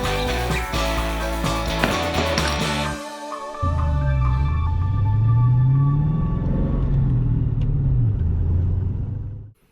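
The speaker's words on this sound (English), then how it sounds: "I attempt to get this car running on its own fuel system." A 1988 Foxbody Mercury Cougar engine runs on its own fuel system, a loud steady rumble with a brief drop around three seconds before it settles back in and swells, ending abruptly.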